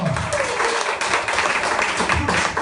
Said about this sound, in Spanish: Dele fuerte aplauso al Señor.